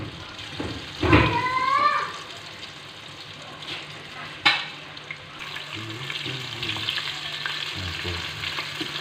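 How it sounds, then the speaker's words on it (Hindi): Chicken pakora fries in hot oil over a medium-low flame, a steady close sizzle with a couple of sharper clatters and scrapes early on, then an even bubbling hiss. "इसको मीडियम लो फ्लेम पे जो हमने फ्राई करेंगे तकरीबन 4 से 5 मिनट"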